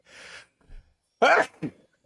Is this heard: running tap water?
no